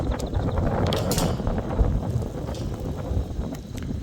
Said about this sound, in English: It's also windy, which means it's cold.